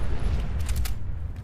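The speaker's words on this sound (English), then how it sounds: "Oh, I love the explosions from the cars." Cars exploding in Fallout 4 on PS4, heard as a dense, rumbling burst of booms and crackling blasts that fills the whole moment, loud and close with a low roar underneath.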